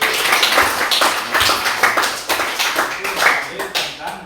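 Hands clapping in a classroom during an Islamic religious studies lesson, a few loose rounds of claps with uneven rhythm, close and fairly loud, mixed with some chatter.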